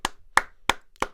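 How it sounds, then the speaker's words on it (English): Four sharp hand claps from one person, evenly spaced about a third of a second apart, close and clear with no talking. "So I'll go ahead and give him some claps right now."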